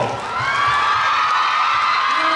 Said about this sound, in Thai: อ่าเสียงปรบมือให้จีด้วยครับ